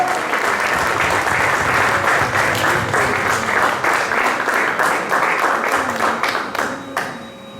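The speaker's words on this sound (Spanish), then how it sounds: "Denle un fuerte aplauso si lo creen" A congregation at a Sunday church service bursts into loud, sustained applause. The many hands keep a dense, even roar, then thin out into scattered individual claps as it fades away at the end.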